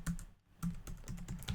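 Fingers tapping on a computer keyboard up close, a quick irregular run of crisp key clicks with a short pause near the start, quiet and alone.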